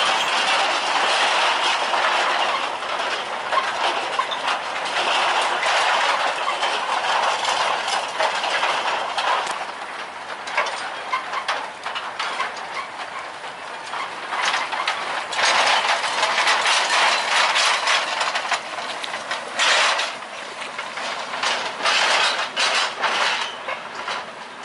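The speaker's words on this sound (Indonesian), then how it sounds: "Dan sekarang lokomotif melewati perlintasan" A sugarcane railway locomotive hauling lorries rumbles loudly and continuously past a level crossing near Turi, with rhythmic clanking and clatter of wheels and cars throughout.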